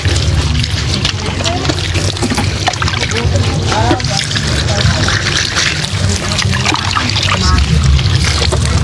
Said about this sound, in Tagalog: Sige, buhos lang.